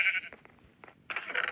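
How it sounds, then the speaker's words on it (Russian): A Minecraft sheep bleats as it is killed in the video game, short nasal cries opening the clip and a louder bleat near the end, heard alone and fairly close. "Я убила овцу случайно."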